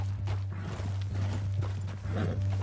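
A horse's hooves clip-clop in a slow, uneven walk over a steady low mechanical hum, with no clear whinny standing out.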